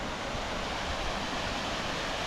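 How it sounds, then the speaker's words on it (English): Cascade Falls in Alaska pours down and splits into several streams, a steady, dense rushing roar of falling water with no voices. "They call this Cascade Falls because it comes down and kind of cascades out into a couple different"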